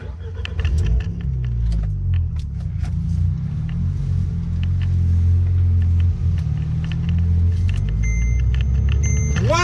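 A Renault Megane RS Trophy-R engine runs with a deep, steady low rumble heard from inside the car, with small clicks and a brief electronic chime over it.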